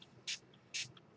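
Three short, sharp hisses from a spray bottle spraying ink, evenly spaced and close up, with quiet background between each pump.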